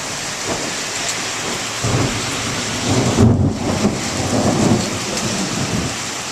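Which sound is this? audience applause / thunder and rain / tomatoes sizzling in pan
thunder and rain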